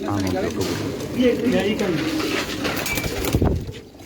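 Pigeons cooing on a rooftop in Rajasthan, soft low coos close by under a voice and other chatter.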